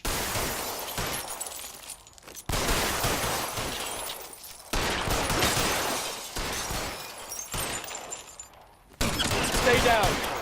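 Rapid bursts of gunfire and shattering impacts from a shootout in the LA Noire video game, loud and repeated in several volleys with brief gaps, mixed with shouting voices.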